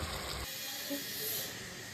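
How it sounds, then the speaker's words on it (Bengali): Meat being sautéed down in a pan: a steady, close hiss of sizzling throughout, with faint kitchen sounds beneath. "মাংস কষা হচ্ছে"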